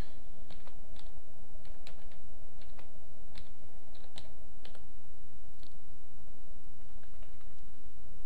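Steady keystrokes on a computer keyboard as a job title is typed into a business card design in Photoshop, with irregular clicky taps spread across the span over a constant low hum, no talking.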